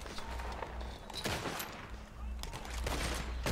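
Gunfire in Red Dead Redemption 2, several sharp shots and bursts scattered over a busy, noisy game soundscape, fairly close with a constant background rumble.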